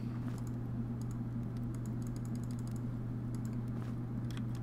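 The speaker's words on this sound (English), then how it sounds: "if you hear the tapping of my keyboard, that's because it's a mechanical keyboard" A quiet mechanical computer keyboard clicks in irregular bursts of taps during gameplay of The Legend of Grimrock, set against a steady low electrical hum, with no one talking.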